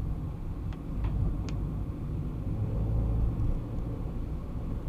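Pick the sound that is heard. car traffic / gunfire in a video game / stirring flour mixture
car traffic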